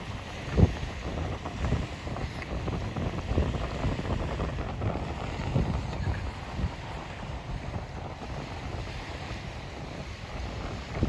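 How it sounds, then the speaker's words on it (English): Breezy wind buffeting the microphone on a beach walk at Balmy Beach Park, a steady low rumbling gust noise with faint surf beneath, no talking. "Kind of breezy down here"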